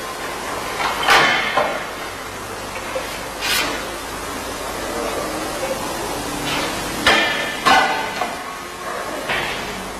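A MagnaBend electromagnetic sheet metal brake forms a partial-length bend in a sheet metal workpiece: several loud, spaced metallic clunks and thuds from the clamp bar and folding beam over a steady room hum.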